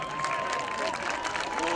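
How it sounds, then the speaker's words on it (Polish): A crowd at an American football game between Lowlanders Białystok and Zagłębie Steelers claps steadily after an interception, a continuous spread of applause heard from a distance. "Wielkie brawa."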